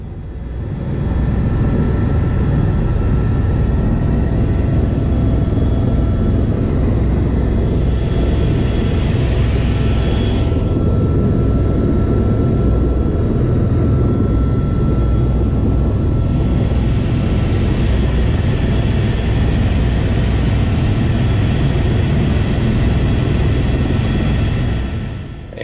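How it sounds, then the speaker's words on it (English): An Airbus EC130T2 helicopter flies low and slow, heard from inside the cabin. Loud, steady engine and rotor drone runs throughout with a dense low rumble and no talking. "They say taxi in the helicopter world, but what that really means is that they fly really low and slow."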